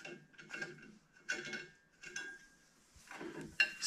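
Metal knobs being unscrewed and undone on a steel cargo trailer for an e-bike, giving several short clinking, rattling mechanical bursts spaced about a second apart, close by, with a brief sharper clank at the end.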